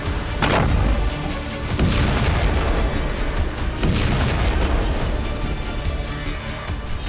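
An Al Yassin anti-bunker missile blasts a military bunker, producing loud, continuous rumbling with repeated heavy booms and thuds layered over one another throughout.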